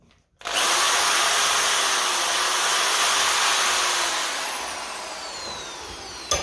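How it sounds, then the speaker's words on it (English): A Dremel rotary tool fitted with a plastic brush polishes diesel injection pump parts from a Ferguson 20 TEF tractor, a loud steady high-pitched whine that kicks in abruptly and runs continuously, easing slightly toward the end. "Got the Dremel in there with the plastic brush, polished everything up."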